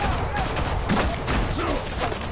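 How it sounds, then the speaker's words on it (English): Gunfire aimed at the player in Batman: The Telltale Series, Episode 2: Children of Arkham, a dense burst of shots crackling steadily throughout at close range with a voice faintly underneath. "Stop shooting me."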